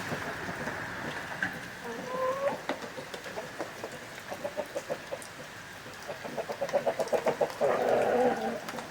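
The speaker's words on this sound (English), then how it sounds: "I know you can hear the chickens" Farm chickens cluck in steady rain, a series of close, rhythmic clucks and short calls over a constant patter, growing busier toward the end.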